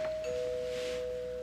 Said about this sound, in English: A man has no legal or moral obligation to respond to his doorbell.